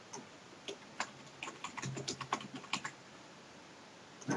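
Faint, close computer keyboard typing, with a sparse run of small, light clicks and taps that cluster briefly before fading back to near silence.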